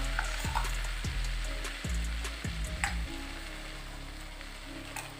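Flour frying in butter over a low flame for white sauce: a soft continuous sizzle with a series of low thudding spoon strokes in the pan, then a steadier fry.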